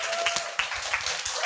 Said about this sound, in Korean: 큰 박수 쳐주시기 바랍니다.